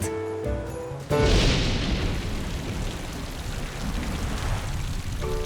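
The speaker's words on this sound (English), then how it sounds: "My, that cool rain feels nice." Steady heavy rain hisses continuously after a brief tonal sound at the start, with a faint musical note returning near the end.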